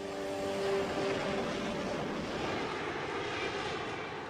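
A Harrier jet fighter's engine roars steadily with a broad jet rush and a whine, loud and sustained without voices.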